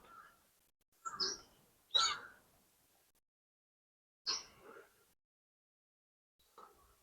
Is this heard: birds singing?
yes